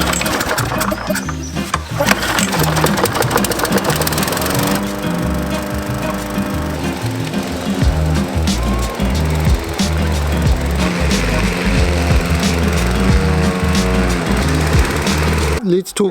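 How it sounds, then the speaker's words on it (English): A lawn mower runs steadily through a long mowing job across several lawns, its engine making a continuous, fairly loud droning hum that persists throughout with little change. "My very first job, joy to the world, I get to mow the lawns."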